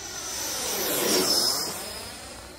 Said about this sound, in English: Let's do one more pass with the gear down, guys.